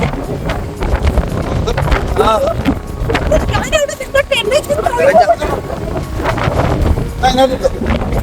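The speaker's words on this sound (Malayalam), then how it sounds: "ഇവിടെ ഭയങ്കര കാറ്റ് ഈ രണ്ട് കല്ലിന്റെ ഇടയ്ക്കൂടെ കാറ്റടിക്കും" Strong gusts roar between two rocks at Red Rock in New Zealand, loud buffeting wind rumbling against the microphone throughout while people talk over it.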